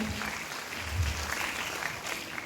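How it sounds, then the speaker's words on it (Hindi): A crowd claps together, steady applause at a fairly low level, filling the short stretch without a break. "आपकी तालियों से इनका हौसला बढ़ता है"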